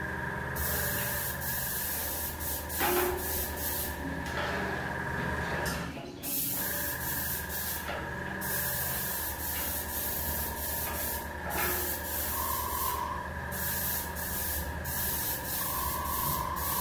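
A dual-action airbrush sprays silver paint over primer at about 20 to 30 psi, a steady close hiss that runs continuously with slight shifts and brief dips.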